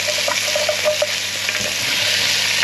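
Garlic and chilli sizzle steadily in hot oil in a pan as they are stirred around, a loud, close, continuous frying hiss with small scraping ticks and no talking.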